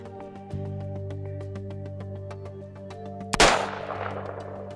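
A single loud gunshot cracks out at an outdoor shooting range with targets, then decays into a long ringing echo over a steady low hum.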